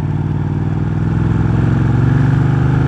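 A Ducati 1199 Panigale engine roars loud and close, a continuous throbbing drone with a rapid pulsing beat that swells slightly as it runs.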